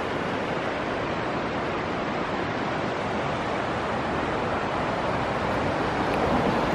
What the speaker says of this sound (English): Look at a pretty little creek that goes underneath it.